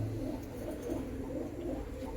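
Pigeons coo softly and repeatedly in a low, rolling rhythm, close by and steady, kept at a loft where the birds are bred.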